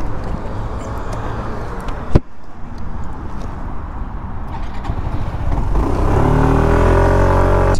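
Yamaha SMAX 155 scooter riding through busy city traffic, engine droning steadily under wind rush with a sharp thump partway through, then the motor rising in pitch as it accelerates near the end.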